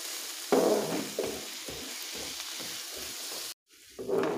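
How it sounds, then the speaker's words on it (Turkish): Carrots and onions sizzle in hot oil while being stirred for a chicken broth dish, with a steady frying hiss broken by repeated scraping and stirring sounds, a brief gap, then sizzling again. "Şöyle 2 tane havucumuzla hemen yağımızın üzerine tekrar bırakıp soğanlarımızla birlikte havuçlarımızı da güzelce bir kavuralım."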